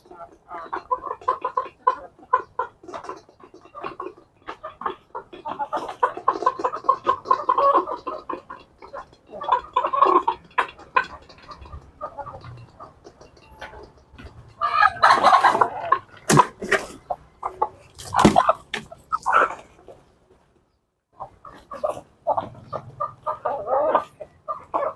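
A flock of chickens being called in for feeding clucks and squawks nearby throughout, with bursts of louder cackling and a person speaking at times.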